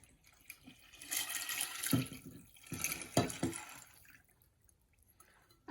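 Hot water pours from a thermos into a microwave macaroni and cheese container, a soft splashing trickle that swells and fades in a few short pours, fairly quiet and close.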